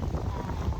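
Strong wind buffeting a microphone outdoors on a hot afternoon, a dense low rumbling roar filling the whole brief moment.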